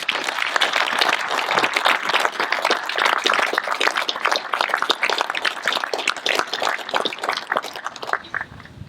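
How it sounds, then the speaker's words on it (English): A crowd at a National POW/MIA Recognition Day ceremony gives a sustained round of dense, loud applause that holds steady for several seconds before fading out at the end. "can you join me in another round of applause?"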